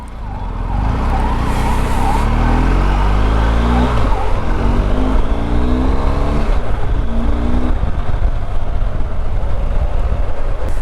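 A BMW R1250GS motorcycle with a 1250 boxer engine accelerates hard and loud, its engine note rising in pitch again and again through successive gears with no talking.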